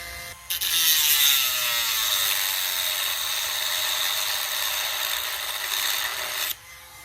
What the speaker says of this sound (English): And so that's going to happen with a Dremel tool.